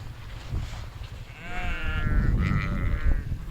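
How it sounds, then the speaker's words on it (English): Dales-bred sheep on a small traditional family farm in North Yorkshire bleat several times in quick succession, with wavering calls over low outdoor rumble and no talking. "we keep Dales-bred sheep on a little traditional family farm"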